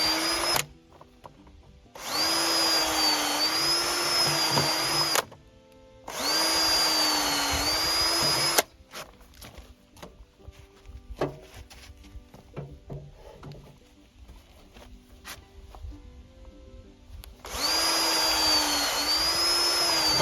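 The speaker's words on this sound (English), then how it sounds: "I pre-drill the ends because this oak is really hard, and that makes it a lot easier when I'm installing them" Power drill pre-drilling the ends of hard oak boards for an enclosed chicken run, three loud whining bursts of a few seconds each with quiet handling clatter and taps between them.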